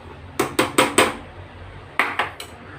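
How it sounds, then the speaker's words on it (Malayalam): An iron dosa griddle clanks onto a pot for dum cooking prawn biryani, with a quick cluster of four sharp metallic knocks and then three more, close and bright. "ദമ്മിടാൻ ഞാൻ ദോശക്കല്ലുണ്ട്, നല്ല ഇരുമ്പിൻ്റെ ദോശക്കല്ലുണ്ട്."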